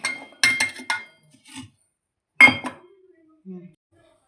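Clinking and knocking of utensils against a mixer jar while transferring chutney ingredients, a few sharp clattering bursts with pauses in between, close by and fairly loud.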